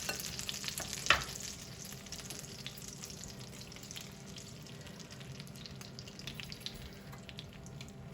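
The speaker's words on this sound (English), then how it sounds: "Butter's melted and brown. we're gonna pour this right on top. We're gonna hear a little splatter probably," Hot browned butter splatters and sizzles in a pan as Dutch baby batter is poured over it, a soft steady frying hiss with a brief sharper crackle early on, fairly quiet and alone.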